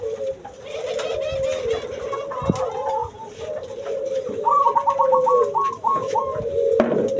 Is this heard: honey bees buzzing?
no